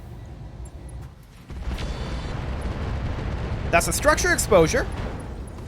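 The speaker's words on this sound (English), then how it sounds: "Streak SRM ammo explosion." Streak SRM ammunition exploding in the RogueTech BattleTech mod, a deep rumbling blast that swells and lingers, followed by sharp crackling bursts of secondary detonations, with someone commenting over it.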